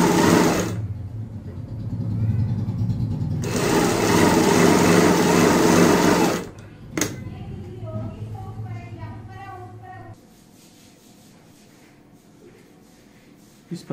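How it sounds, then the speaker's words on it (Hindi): A sewing machine stitches lined kurti neck fabric in two loud, close bursts of fast whirring, with a brief stop between them, then gives way to quieter handling sounds as a person talks. "ऊपर से यहाँ पे सिलाई लगाएंगे।"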